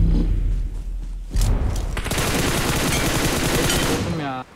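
Rapid, loud gunfire from a video game rattles in dense bursts after an opening thud, sustained to the end with a short mechanical tail.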